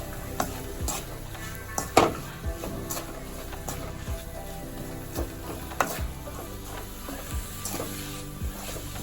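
A spoon stirring spiced leafy-greens dal (aaku pappu) in a pan on a gas stove: repeated scraping and clinking strokes at an irregular pace over a soft, constant sizzle, close and without talk.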